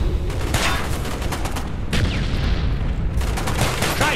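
Rapid bursts of pistol gunfire crack over a dense, noisy soundscape in Call of Duty: Black Ops, shots coming in quick clusters with brief pauses between them.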